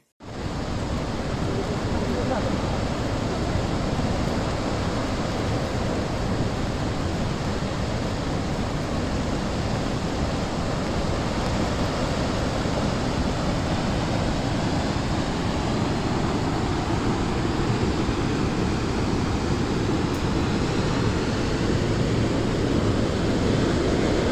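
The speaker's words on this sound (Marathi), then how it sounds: "वेन्ना नदी ओसांडून वाहत असल्याने लिंगमाळा धबधबा ओसांडून वाहू लागला आहे" Lingmala waterfall in Mahabaleshwar, overflowing during heavy monsoon rain, pours with a loud, unbroken broadband roar that stays steady and close for the whole stretch, with no voices audible.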